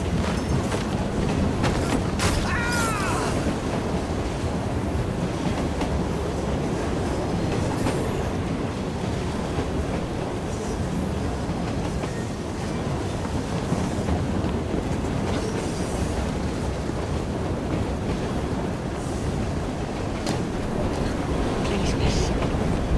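A train in the Assassin's Creed Syndicate video game: a constant heavy rumble and clatter of rail cars that holds steady for the whole stretch, with a brief wheel squeal near the start.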